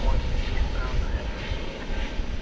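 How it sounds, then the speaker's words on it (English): Airbus A321neo jet of American Airlines approaches at an airport, heard as a steady, moderate, broadband engine roar with no distinct events, under a faint background hum. "we've got an American Airlines Airbus A321neo coming in from Phoenix"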